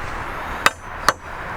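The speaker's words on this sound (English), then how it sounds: "Let's give it a little tap with the hammer." A hammer gives two sharp, close metallic taps about half a second apart during Cadweld exothermic welding training work, with quiet room noise between the strikes.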